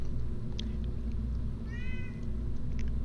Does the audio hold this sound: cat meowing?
yes